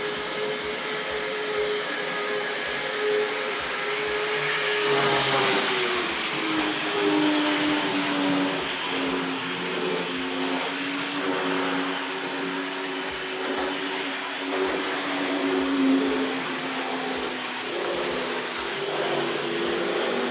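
A 1974 Hornby R.538 Blue Pullman model train runs along its track, a steady electric motor whine with a falling pitch over the rhythmic clicks of wheels crossing rail joints, moderately close and uninterrupted.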